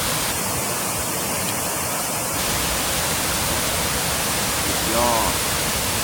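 The Kuang Si waterfall near Luang Prabang, Laos, gives a loud, steady roar of rushing water that stays close and unbroken, with a brief voice speaking near the end.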